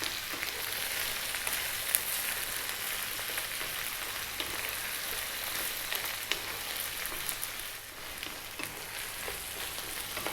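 Potatoes with salt and spices sizzle in a pan over high heat, a dense, loud, continuous frying hiss with small crackles throughout, close and with no voices.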